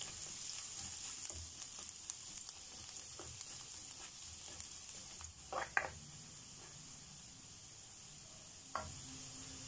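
Garlic frying in a pan for a vegetable dish cooked with coconut milk and shrimp, a quiet steady sizzle with a few soft scrapes and pops.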